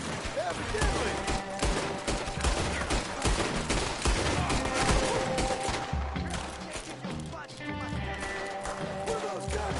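Gunfire erupts in the Red Dead Redemption 2 epilogue with John Marston: dense volleys of rifle and pistol shots, some rapid, crackle throughout with hoofbeats mixed in, while voices talk over the shooting.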